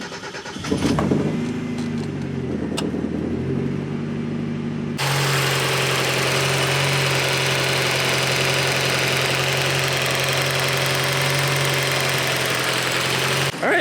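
A Mazda Miata turbo engine with newly installed fuel injectors cranks and catches, then settles into a steady, even idle that hums on without change until the end.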